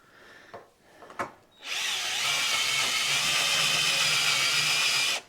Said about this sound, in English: This time we'll deburr it.